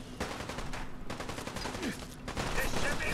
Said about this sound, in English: I'll shoot you in the torso